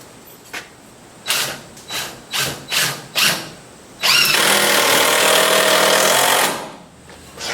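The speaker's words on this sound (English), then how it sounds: "Now I just need to put some screws in." Power drill driving screws into an electrical box: several short trigger bursts, then a loud sustained whir lasting about two seconds before winding down.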